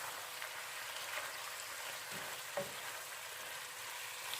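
Potatoes for a tartiflette sizzle softly in a frying pan, a faint continuous frying hiss with a couple of light stirring scrapes and no speech.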